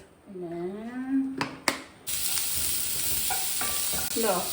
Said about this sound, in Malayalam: ഈ ചെറിയുള്ളിനെ ഞാൻ വരട്ടി എടുത്തോണ്ടിരിക്കുക